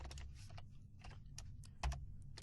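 Keys clatter on a computer keyboard as code is typed into a C# editor, a quiet, irregular run of clicks with one firmer tap near the end.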